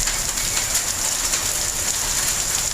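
Hail drums hard and continuously on a car windshield during a 2016 hailstorm, a dense, loud patter heard from inside the car with no pauses.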